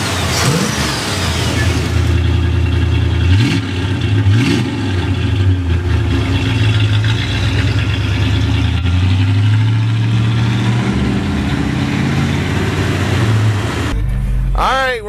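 A 1949 Cadillac two-door fastback street rod runs with a deep, steady engine rumble and a couple of brief revs, heard up close for the full length while talk runs over it at times.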